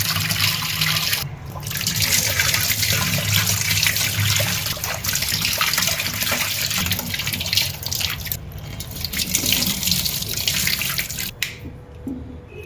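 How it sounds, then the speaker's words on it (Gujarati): Onions and garlic are rinsed under a running kitchen tap, a steady close splash and trickle of water with small drips and brief breaks, no talk. "હવે આ બધીને ધોઈ નાખીએ અને કટિંગ કરી નાખીએ ડુંગળીને ધોઈ નાખીએ લસણને ધોઈ નાખીએ"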